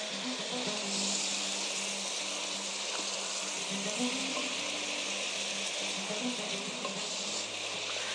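Tomatoes and chard fry in a pan with a steady, close sizzle that holds evenly from start to finish, with no voices.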